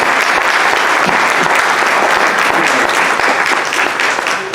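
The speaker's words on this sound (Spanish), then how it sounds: "Un aplauso, por favor." Loud, dense applause from the audience of a general session lecture on emotional intelligence, a continuous crowd of clapping hands sustained at full volume throughout.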